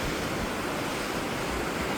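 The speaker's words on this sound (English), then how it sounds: "Just listening to the waves" Ocean waves wash up and down the shore at Pan's Rocks, Ballycastle, a steady broadband surf roar close by, continuous for the whole stretch with no voices.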